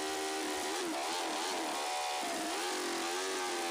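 A drag motorcycle in Drag Bike Simulator revs steadily with a buzzing mid-pitched engine note that rises and falls in waves, close and continuous throughout.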